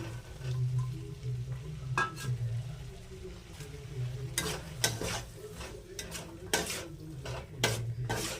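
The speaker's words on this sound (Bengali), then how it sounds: "ভেজে রাখা আলুগুলো দিয়ে দিয়েছি এবার ভালো করে নেড়ে নেবো" Fried potatoes with chopped green chillies and spices being stirred in a pan, repeated scraping and clattering strokes of a utensil against metal over a soft sizzle, close and irregular.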